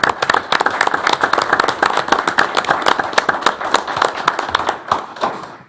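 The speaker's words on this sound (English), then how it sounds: "Can we give these young people a round of applause" Enthusiastic applause from the audience at a county board of education meeting for students, loud crisp clapping with sharp individual claps, sustained and then tapering off at the end.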